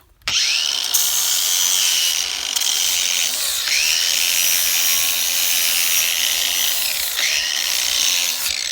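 A power tool bevels the side of a wooden table upright, with a loud, close, sustained whine and grind that dips and swells at intervals as each pass is made, no speech.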